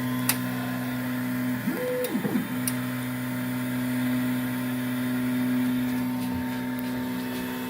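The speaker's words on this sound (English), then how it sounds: "So I will now initialize this printer." A TierTime 3D printer initializing hums steadily with tonal whirring, while stepper motors sweep up and down in pitch briefly, punctuated by a few faint clicks.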